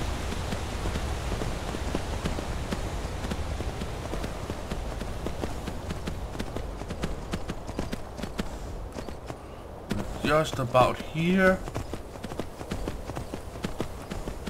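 Steady clip-clopping of horse hooves in Skyrim continues throughout at an even walking rhythm, with someone speaking briefly near the end.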